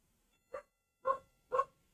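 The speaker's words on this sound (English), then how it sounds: "And that's my dog barking." Three sharp dog barks, evenly spaced about half a second apart, fairly close and clear against a quiet background.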